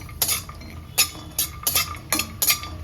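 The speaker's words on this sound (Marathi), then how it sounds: "काजूमध्ये पण अगदी थोडंसं तूप टाकायचं आणि मस्त भाजून घ्यायचे खमंग काजू लगेचच भाजतात बघा" Cashews roast in a little ghee in a pan for Janmashtami laddus, with about five quick scraping, clinking stirs of a spoon against the pan over a low, steady background hum.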